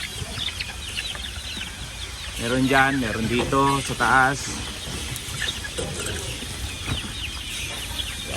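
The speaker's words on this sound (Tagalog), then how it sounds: "Mayroon akong alaga mga manok dito." Farm chickens, bred hens kept by the owner, cluck and call in a short burst of stacked squawks close by, amid a steady outdoor hiss while someone talks.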